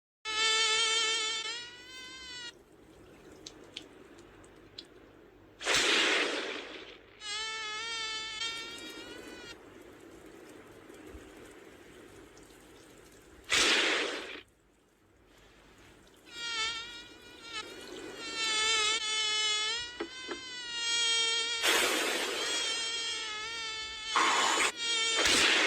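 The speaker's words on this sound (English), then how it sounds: "It's not just a bug, it's a mosquito." A mosquito whining in a room, its thin high buzz rising and fading in several separate passes, broken by a few loud sharp thumps, with quiet gaps between.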